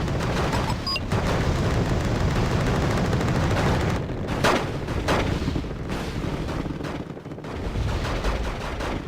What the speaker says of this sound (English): Don't know if that's firing at our own guys actually